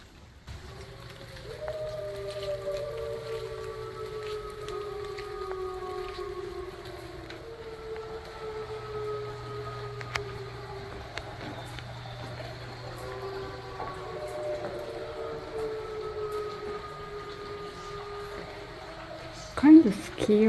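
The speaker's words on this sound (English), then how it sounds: "The eerie howling off in the distance really set off a nice ambience." Long, wavering wolf howls rise and fall in the distance at a wildlife park, several overlapping, faint over a low background hum.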